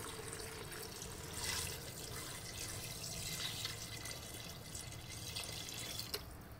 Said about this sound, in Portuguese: Colocar água. A água até cobrir a costela.